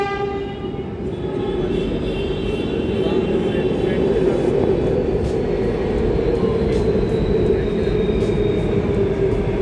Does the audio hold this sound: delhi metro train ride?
yes